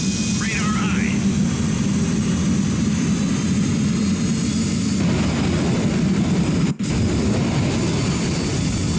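Soviet bomber aircraft engines in the naval combat game Sea Power give a loud, continuous low roar, a steady drone that holds without a break throughout.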